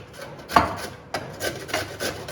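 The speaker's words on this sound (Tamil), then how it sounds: "இந்த மாதிரி பூவாக எடுத்து நம்ம க்ளீன் பண்ணி வச்சிட்டோம்னா இந்த மாதிரி துருவிக்கலாம்." Cauliflower florets being grated by hand on a grater, giving a series of raspy scraping strokes in an uneven rhythm, loud and close, with no talking.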